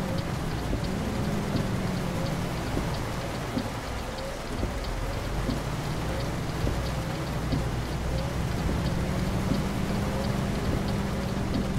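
Steady heavy rain drums on surfaces during a nighttime truck drive in Euro Truck Simulator 2, with faint rumbles of thunder under the continuous downpour.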